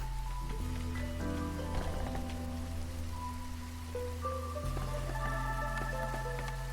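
Steady soft drizzle pattering in Against the Storm, a faint continuous hiss of light rain beneath gentle sustained musical tones, with no voices.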